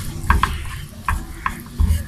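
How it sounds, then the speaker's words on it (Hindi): Flour lightly frying in oil over a very low flame, heard as a few soft spoon taps and scrapes against the pan over a faint background sizzle, close by and without talk. "बहुत स्लो आग पे मैंने इसे हल्का सा फ्राई करना है"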